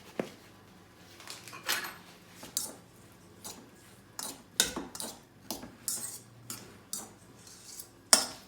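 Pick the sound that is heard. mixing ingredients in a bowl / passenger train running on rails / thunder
mixing ingredients in a bowl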